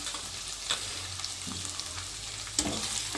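Onion paste fries gently in oil in a home kitchen, a steady low sizzle with a few soft spoon scrapes and clicks against the pan, no voices.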